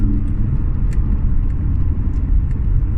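A Jaguar XF R-sport accelerates, its engine giving a steady, loud low rumble heard from inside the car with no spoken voices.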